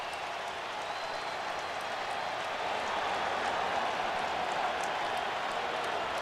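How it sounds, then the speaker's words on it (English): Broad, steady applause and crowd noise fill a college football stadium during Alabama versus Tennessee, a distant hissing wash of clapping that rises slightly midway and stays constant. "And the crowd responds."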